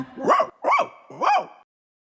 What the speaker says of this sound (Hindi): नहीं बार्टोलीटो, वो एक कुत्ता है।